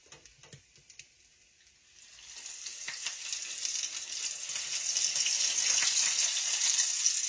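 Onion rings frying in hot oil alongside catfish, a steady hiss and crackle that starts soft with a few pops and builds into a louder, continuous sizzle.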